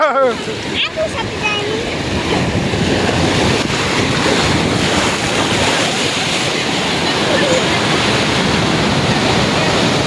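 Sea waves at Kuakata beach roar in a dense, continuous wash of surf, loud and close, with strong wind buffeting the microphone throughout.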